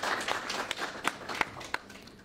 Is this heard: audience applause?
yes